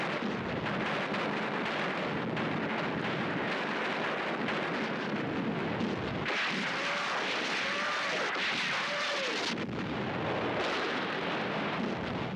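Soviet Red Army artillery fire in the last campaign against the Japanese: a dense, continuous rumble of distant guns thundering without pause, with faint higher whistling tones rising over the roar partway through.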